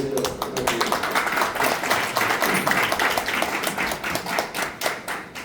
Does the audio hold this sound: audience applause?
yes